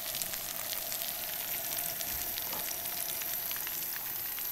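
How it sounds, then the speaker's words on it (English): Golden chanterelle mushrooms sizzle and pop in a pan on an old camp cook stove at a campsite, a steady, dense crackle of frying with no talk. "Starting to sizzle and pop."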